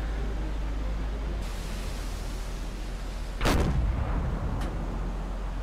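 A submarine deck gun fires at a tanker in Silent Hunter 4. A single sharp, loud blast rises over constant sea and engine hiss, and a fainter second report follows.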